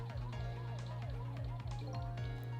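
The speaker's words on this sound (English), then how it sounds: "Guess we'll turn on the siren then." A wailing, looping siren from the video game Ghost Trick, switched on at a car, cycling rapidly up and down in a steady, loud electronic pattern with no talking.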